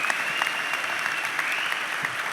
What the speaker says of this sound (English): round of applause if that's an amazing feat